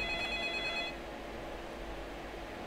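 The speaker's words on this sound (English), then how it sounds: "that telephone's ringing, I better answer it" A telephone in the video game Indicted rings quietly with a short electronic trill. A single burst opens the clip over a low background hum, then the line falls quiet.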